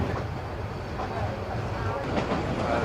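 A steady, rumbling roar of a moving train fills the whole stretch, with people talking over the noise.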